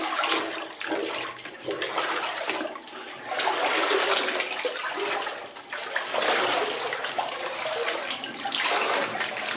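Steady sloshing and splashing of boots wading through water in a flooded old mine adit hewn into rock, continuous and close with surging bursts, no talk.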